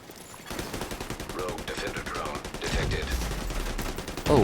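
Pistol gunfire in the video game The Division 2, a fast run of close, loud shots in steady rhythm that continues through the clip amid other combat sounds, with a heavy boom near the end.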